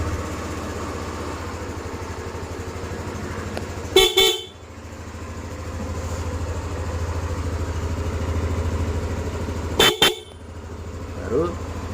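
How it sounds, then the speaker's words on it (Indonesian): Two short, loud blasts from a Hella car horn fitted on a Yamaha Lexi 155 scooter sound several seconds apart over a steady idling engine rumble, with a faint murmur of talk. "saya ganti pakai merek Hella, klakson mobil"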